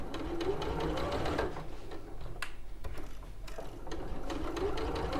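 A sewing machine stitches fabric with a fast steady mechanical ticking rhythm, running nearly continuously at moderate volume with slight pauses and shifts in speed.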